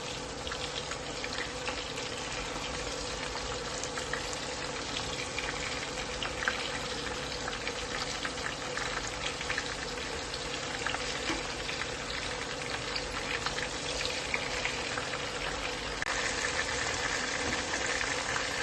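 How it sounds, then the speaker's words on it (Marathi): Coated bombil fish laid into hot oil in a wok, giving a dense, even frying hiss that holds steady throughout with a faint low hum beneath and no talking. "कढईतलं तेल गरम झालं आहे आणि आता हे बोंबील आपण कोटिंग केलेलं आहे ते याच्यात ठेवायचे आहेत"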